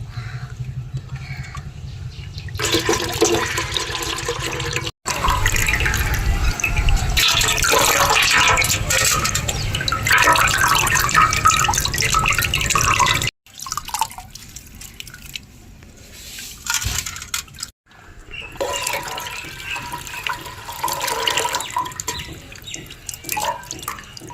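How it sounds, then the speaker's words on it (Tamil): Water drained from old cooked rice trickles and drips through a small strainer, a steady liquid spatter running close and fairly loud with brief pauses and changes in flow, no talking. "இந்த சா தண்ணியை ஃபில்டர் பண்ணி நம்ம ஊற்றிக்கிறோம்"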